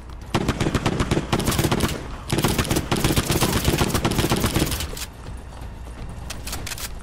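Rapid bursts of gunfire from a video game gun ring out in two dense volleys, loud and close, then give way to quieter game background sound.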